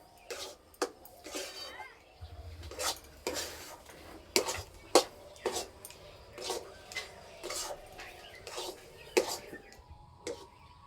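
Semolina cooks over very low heat in a pan, stirred with a utensil that scrapes and knocks in irregular bursts, close and fairly clear, with faint talk in the background.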